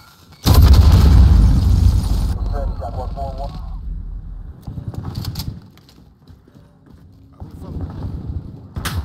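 A grenade explodes in a shooter video game: a sudden loud near blast with a rumbling tail, followed by scattered gunfire and game effects while radio-style voices call out over it.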